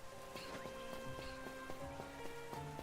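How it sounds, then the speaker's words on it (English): Rain falls steadily in the Pokemon Legends Z-A video game, a soft, even patter over background game music with brief tonal notes. "It just started raining."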